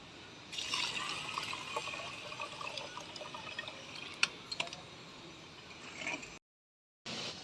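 Ration rice and water pour together while the rice is being washed and sifted, giving a steady close splashing trickle with small patters throughout. The sound briefly cuts out near the end.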